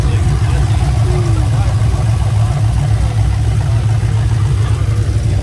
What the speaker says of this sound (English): This is definitely a sleeper-ish, because you can still hear the cam.